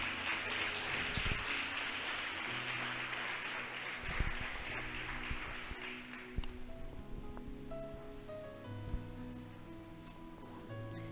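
Congregation in a church applauding: a broad, fairly distant roar of clapping for about six seconds that then dies away, leaving quieter sustained tones and scattered knocks.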